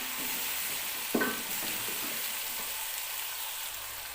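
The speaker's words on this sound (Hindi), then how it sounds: "इसे हम अच्छी तरह से भून लेंगे।" Chopped onions, two of them, frying with chicken in a pan, giving a steady broad sizzle throughout with a brief stir-like clatter near the start; no talking.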